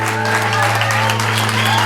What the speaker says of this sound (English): Massive round of applause for that one.